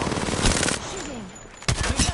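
Rapid video-game gunfire crackles in bursts at the start and again near the end, with a quieter gap between.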